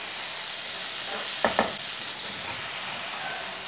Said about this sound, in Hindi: 2 मिनट तक दोबारा मैंने भून लिया है।